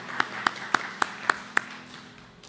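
A church congregation at a Sunday morning service claps six times in a slow, steady unison rhythm, each clap sharp and distinct, after which the room fades to quiet.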